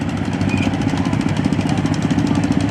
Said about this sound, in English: Here we have a John Deere 210 lawnmower